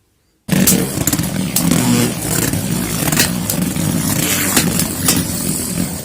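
Custom Beyblade fitted with a Never-Ending bearing driver and Flashfire disc battling a defensive bey in a stadium, starting abruptly after brief silence into loud continuous whirring scrape with repeated sharp clacks of collisions, close and sustained.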